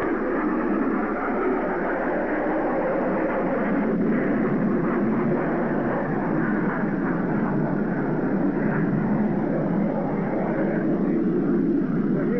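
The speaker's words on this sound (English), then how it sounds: "the flyby of the four jets zooming overhead at the present time." A formation of four military jets sweeps overhead at the Super Bowl V stadium, a broad, steady roar that fills the whole stretch at constant loudness, with no speech over it.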